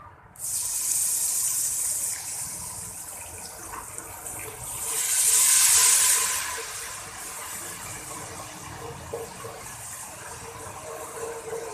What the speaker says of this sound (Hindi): हल्का सा पानी का छींटा लगाएंगे ताकि मसाले हमारे जले ना।